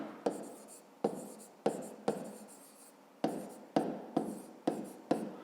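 A pen writes on paper during a fifth-grade math exercise, with about nine distinct scratchy strokes at irregular intervals, close and quiet with no voices.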